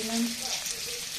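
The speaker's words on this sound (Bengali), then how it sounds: "একটা 2 চামচ তেল দিলাম। পেঁয়াজ, দিয়ে দিলাম" Onions dropped into hot oil crackle into a brief, steady sizzle, close and moderately loud with no talk.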